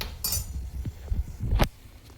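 Gravy for a corn curry stirred in a pan: a few scattered clinks and scrapes of a spoon against metal, close and fairly loud, with short pauses between strokes and no talking.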